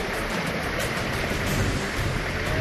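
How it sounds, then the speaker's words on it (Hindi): Roaring flash flood water after a cloudburst in the Dharamshala hills, a dense, steady broadband rush that fills the clip without pause, loud and close, with no voices. "पानी का ये शोर दहशत पैदा करता है।"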